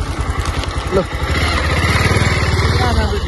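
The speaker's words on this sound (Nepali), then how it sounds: "यहाँनिर बाइक राख्ने यहाँनिर बाइक राखिन्छ" A motorcycle engine idles close by with a steady throbbing pulse as the bike is parked in a shady spot in Jhapa. A person talks briefly over the engine noise.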